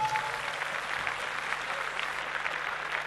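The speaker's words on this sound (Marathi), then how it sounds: "जोरदार टाळ्या वाजवा या संघासाठी" An audience at a Mangalagaur gathering gives a performing group steady, even applause: dense clapping that holds throughout at moderate volume.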